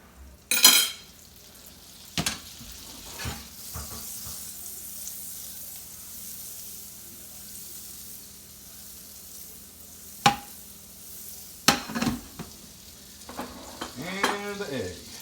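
Chicken browning in butter in a frying pan makes a low, steady sizzle, with a few scattered clinks and scrapes of a utensil against the pan and a brief burst of louder activity near the end.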